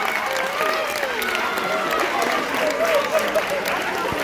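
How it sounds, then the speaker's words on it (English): An audience at a live hypnotist stage show bursts into steady, sustained applause that fills the room, with a few voices calling out among the clapping. "let's give her a big round of applause."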